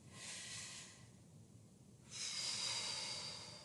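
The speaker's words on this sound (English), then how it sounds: "See how it's different if you just change when you breathe." During a yoga exercise, a person breathes slowly and audibly: one long airy inhale, a short pause, then a longer, stronger exhale, close and soft, with no talking.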